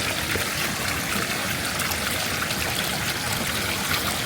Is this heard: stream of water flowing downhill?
yes